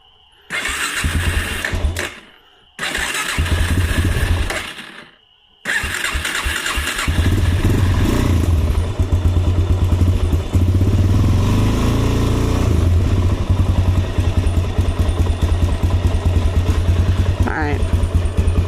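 A quad four-wheeler engine cranks over in two short bursts, then catches and settles into a loud, steady close-up idle with light revving; a person talks briefly over it.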